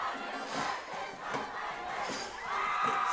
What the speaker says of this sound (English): You can hear this crowd and this band.